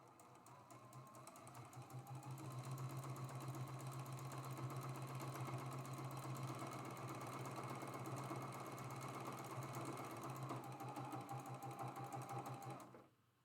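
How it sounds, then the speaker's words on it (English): A sewing machine runs a steady quarter-inch seam along the raw edge of fabric for a friendship star quilt block, its rapid even chatter close and continuous for about ten seconds before stopping. "Sewing with a 1/4 inch."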